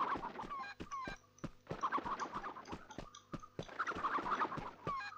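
Chickens in a PS2 video game clucking in quick irregular bursts, with sharp staccato clicks and brief pauses, close and clear with no talk.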